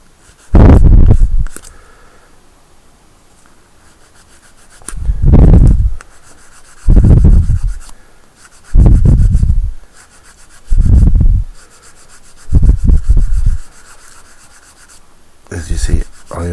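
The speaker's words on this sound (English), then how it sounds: "I am not using a rough sanding stick" Repeated rasping strokes of a fine sanding stick lightly smoothing a small plastic figure, about seven separate passes with pauses between, close up and fairly loud.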